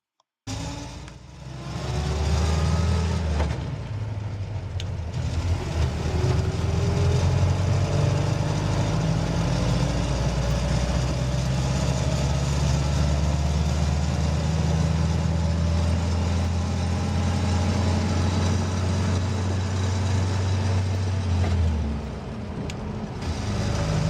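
A car engine runs steadily in a low gear for a long stretch, a loud continuous drone with a low hum that holds nearly constant, with no voices.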